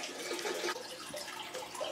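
Water pouring into a 125 gallon cichlid aquarium during a water change, a steady close splashing gush with bubbling, continuous and alone.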